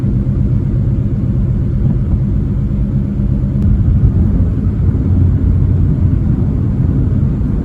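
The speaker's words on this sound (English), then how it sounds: "Hear that engine racing?" A car's engine drones steadily as it climbs a hill in fourth gear at about 35 mph and 1500 RPM, heard from inside as a low, continuous rumble that swells slightly midway, with no talking over it.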